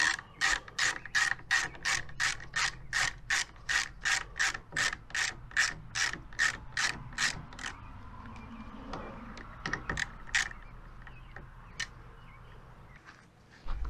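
A ratchet wrench loosens a 10 mm bolt on a Kolpin UTV mirror, giving a loud, close, rapid train of regular clicks for about eight seconds, then scattered fainter clicks and handling noises.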